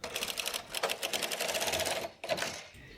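A standard gauge knitting machine carriage is pushed across bulky yarn with a continuous clattering, rattling run. There is a brief pause near the end, then another short stroke. The sound is moderately close and has no talk over it.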